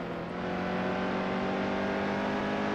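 Stock car engine in the NASCAR Heat 2 racing game holding a steady, sustained high-revving drone at speed, faint and continuous with no talking over it.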